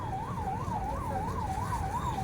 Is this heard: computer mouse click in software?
no